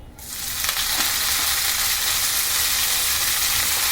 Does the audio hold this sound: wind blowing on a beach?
no